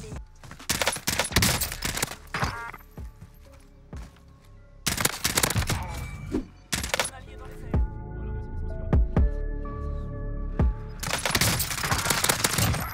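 Enemy gunfire in the video game Warzone comes in loud bursts of rapid shots separated by quieter gaps with lower rumbling and sporadic single reports; a voice can be heard in places.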